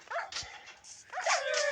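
Dogs in a zombie video game give short yips and barks in quick bursts, moderately faint, over a quiet game background.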